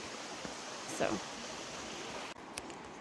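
The Jacks River flows through a valley in the Cohutta Wilderness, a steady broadband rush of running water heard from a distance, with brief rustles and a soft voice over it.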